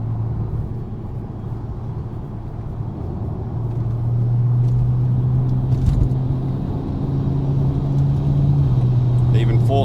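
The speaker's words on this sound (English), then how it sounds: "Clean shift into 4th." A car driving with a manual transmission shifting into fourth, with steady engine and road rumble that rises slightly midway, and someone speaking over it.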